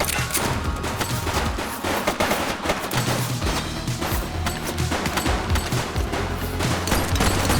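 Sustained gunfire fills a shootout in the police game The Precinct, with dense rapid bursts of automatic shots and scattered single cracks, loud and close throughout.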